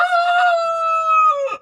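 An old broody hen in a breeding coop gives a single long, drawn-out call that holds steady before breaking off at the end, close and clear with no one talking.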